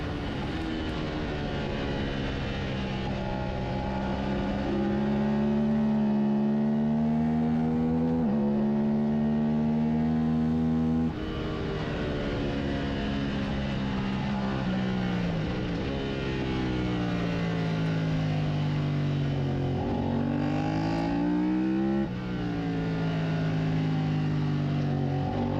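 A race car laps Summit Point on a track day, its engine note loud and close, rising through each gear in long climbing sweeps, dropping sharply at shifts and braking, then climbing again.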